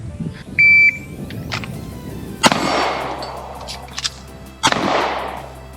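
A shot-timer beep opens a gloveless timed shooting drill with one reload. Two sharp, loud gunshots follow about two seconds apart, each with a ringing echo tail in an outdoor range.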